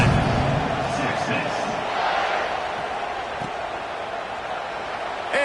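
Stadium crowd noise from the College Football 26 video game swells as the kickoff unit takes the field: a dense, steady roar of distant cheering runs under a commentator's play-by-play.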